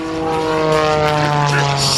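An Edge 540 aerobatic plane at the 2008 Watsonville air show drones steadily overhead during a snap roll, its propeller engine a continuous loud buzzing hum, while someone talks over it.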